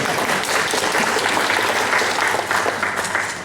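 An audience claps at an official presentation ceremony, dense, steady applause filling the whole moment at close range, with no voices rising above it.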